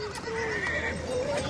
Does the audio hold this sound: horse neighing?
yes